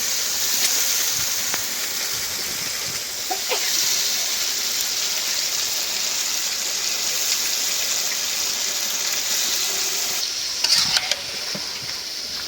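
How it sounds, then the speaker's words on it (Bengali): Meat frying in spiced masala gives a steady, close sizzle and hiss while being stirred, with a short burst of clattering utensil scrapes near the end. "মশলা ভালো করে কষাই নিলাম, এখন মাংস দিয়ে দিই।"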